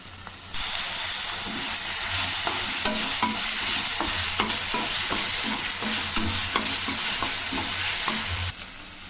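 Ginger garlic paste and salt sizzle loudly in hot oil in a frying pan for a chicken fry, with a steady hiss and rhythmic clicks of stirring throughout.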